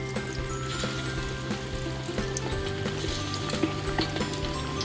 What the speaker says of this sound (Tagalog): the oil is hot, 360 Fahrenheit, so we deep fry the wings.